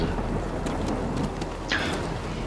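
Chiral rain pours in the video game Death Stranding, a dense, constant rush of rainfall with a low rumbling undertone and a few brighter splashy accents, steady throughout.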